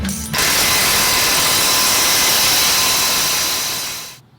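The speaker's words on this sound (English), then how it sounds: "I'm going to start with just a ratchet, and then I'll hit it with the impact after this." A hand ratchet tightens exhaust bolts on a Nissan 370Z during a cat-back exhaust install, giving one steady, loud, close-up burst of rapid clicking that fades out at the end.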